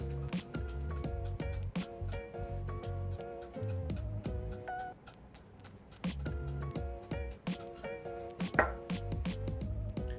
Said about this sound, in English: we're just gonna finely chop some chives here